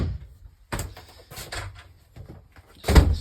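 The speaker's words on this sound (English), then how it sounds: "Medicine cabinet that opens." A camper bathroom medicine cabinet door opening with a few close wooden knocks and rattles, ending in a louder thud, with no talking.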